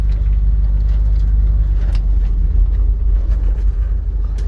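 Inside a moving car, a constant low engine and road rumble drones loud and steady throughout, with no voices.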